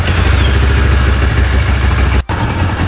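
A motorcycle engine idles at 1000 RPM, a loud, close, steady low chugging that briefly drops out near the end before carrying on.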